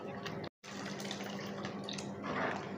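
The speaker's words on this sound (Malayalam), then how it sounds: "കുറച്ചുകൂടെ വെള്ളം ഒഴിച്ചു കൊടുക്കാം." Water pours steadily into a pot of spinach dal curry with cooked lentils, a continuous close splashing wash that thickens briefly near the end, broken by one short gap.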